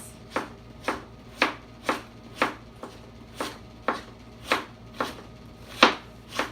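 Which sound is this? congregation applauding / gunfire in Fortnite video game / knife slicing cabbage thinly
knife slicing cabbage thinly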